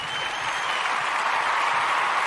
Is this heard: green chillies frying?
no